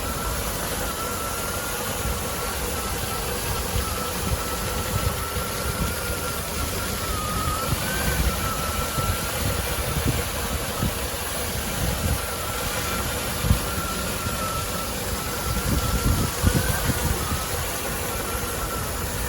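A Land Rover Defender 90 50th Anniversary with a freshly rebuilt 4-litre V8 idles close by, a smooth, steady low rumble that holds for the whole stretch and has a slight unevenness but no speech.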